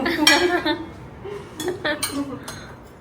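Kitchen utensils and dishes being put away clink and clatter close by in several bright, irregular bursts of metal and crockery striking each other.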